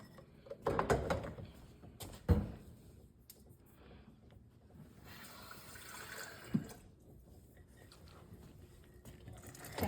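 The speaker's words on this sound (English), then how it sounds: "I think we're going to add a little bit of water." Water is poured into freshly churned homemade butter at a dairy, heard as a few quiet, brief splashes and trickles with faint sloshing in between.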